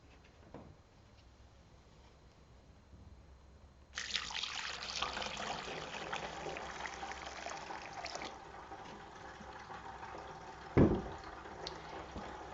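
Water from a bucket is poured through a paper towel filter, a faint quiet stretch giving way to a steady close trickling pour with a brief louder splash near the end.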